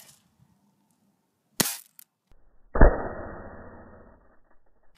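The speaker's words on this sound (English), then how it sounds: "The sniper's in action." A single sharp sniper rifle shot aimed at an HP Mini laptop, a crisp crack followed by a short snap, then a heavier boom-like impact that rings out and decays over about a second, loud against near silence.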